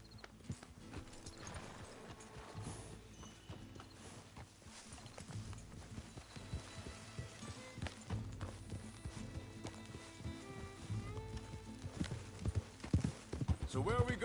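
Horse hooves clip-clop in a video game in a steady rhythm throughout, with voices talking over the plodding footfalls.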